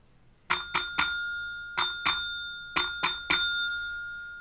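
A railway signal box block bell rings out a 3-2-3 code: three sharp metallic strikes, a pause, two strikes, another pause, then three more, each ring decaying cleanly with a sustained tone against a quiet room.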